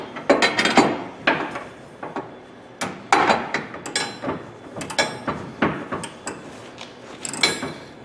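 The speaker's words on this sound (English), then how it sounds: "Next, we'll use a socket and ratchet." Socket and ratchet turning a cap screw on a military Humvee tire carrier, a series of quick metallic clicking bursts in short irregular runs, close and fairly loud.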